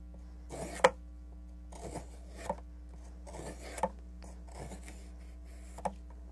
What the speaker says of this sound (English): Be careful when you're working with your draw knife because it is very sharp.